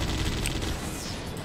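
Rapid gunfire in the video game Judge Dredd: Dredd vs. Death, a dense, continuous barrage of shots packed with booms, loud and steady for a moment and unbroken by speech.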